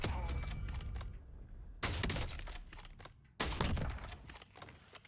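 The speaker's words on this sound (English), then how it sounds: "take a couple shots without holding my breath" A few sharp gunshots in a video game, played on a controller fitted with TMR sticks: three loud cracks spaced about a second and a half apart, each fading into a quiet tail, with no talking.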